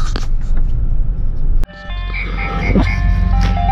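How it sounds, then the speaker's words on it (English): An ice cream truck plays its tinny melodic jingle nearby on a street, rising up after a brief sharp click, over a low rumble of traffic. "No matter where I go, there's an ice cream truck somewhere."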